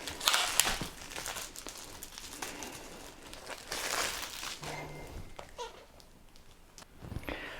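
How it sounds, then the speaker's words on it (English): Plastic shrink wrap crinkles and tears as it is pulled off a Warhammer Horus Heresy army book, a continuous close rustling with louder bursts and no talking. "Let's unwrap this."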